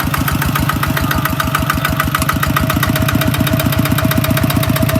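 A farm tractor engine runs steadily at idle, with a fast, even, knocking beat that repeats throughout. The sound is loud and close, with no talk over it.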